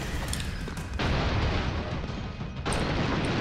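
Explosions in the run-and-gun video game Broforce: dense, loud booming blasts fill the whole span, a heavy rumbling burst near the start and another sharp blast with crackling debris near the end.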